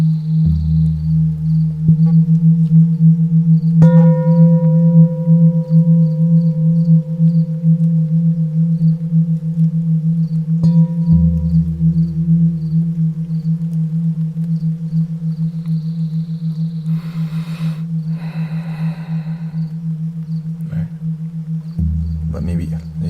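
Several singing bowls, one of them a kitchen bowl, rung together in a sound bath: a loud, sustained low hum with ringing overtones that swells and fades, struck again a few times, with brief soft noises over it.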